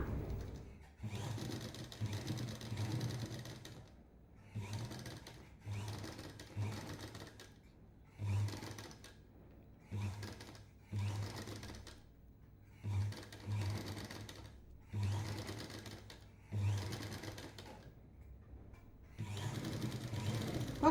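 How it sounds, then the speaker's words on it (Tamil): A sewing machine stitches the neckline of an Aari blouse in a run of short, fairly quiet whirring bursts separated by brief pauses. "இப்போ நம்ம எப்படி பின்கழுத்தை தைச்சோமோ அதே போல் இதுலேயும் தைச்சிடலாம்"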